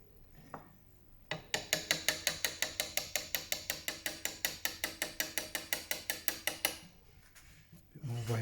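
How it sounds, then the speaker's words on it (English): Wood chisel cutting a moulding: a steady run of about thirty evenly spaced sharp taps or scrapes lasting several seconds, close and fairly loud, with quieter handling sounds before and after and no talking. "Bring the chisel back."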